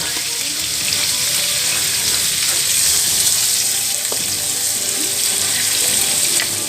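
Blue crab stir-fried with egg in a hot pan, a loud continuous hissing sizzle that holds evenly throughout, with a couple of faint clicks of a utensil stirring.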